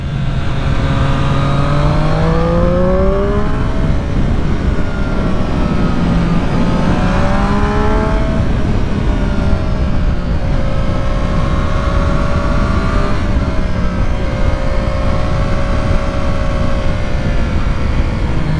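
A 2020 Triumph Street Triple 765 RS motorcycle engine revs hard and steadily, its pitch sweeping up and down in loud, continuous waves with no talking.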